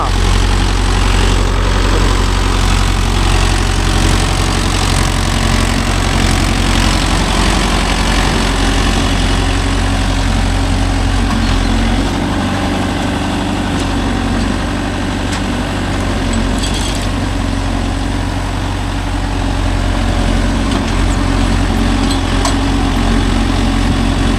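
A Mahindra Yuvo Tech Plus 585 4WD tractor engine runs steadily and loudly up close, with a constant low rumble and a brief dip partway through, and no speech.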